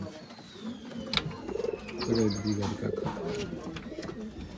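Domestic pigeons of an old line breed coo in a low, repeated purr at a bird market in Bangalore, the cooing mixed with general chatter and other bird calls nearby.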